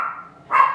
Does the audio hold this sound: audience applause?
no